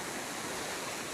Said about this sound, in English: Next to the cemetery you have the creek.